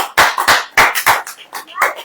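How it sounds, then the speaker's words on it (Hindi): A congregation at a church service claps together in a burst of irregular, overlapping hand claps, fairly loud and close, fading into scattered claps toward the end. "ताली नहीं बजाएंगे?"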